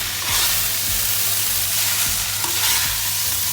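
Vegetable noodles with tomato sauce are tossed and stir-fried in a hot pan, a dense sizzle broken by a few soft scraping stirs over a low steady hum.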